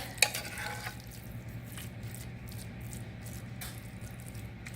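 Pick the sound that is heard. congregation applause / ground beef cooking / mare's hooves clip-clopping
ground beef cooking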